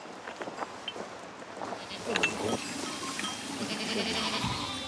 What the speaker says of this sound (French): Les 80 chèvres de Loïc rentrent de la montagne, où elles broutent depuis le matin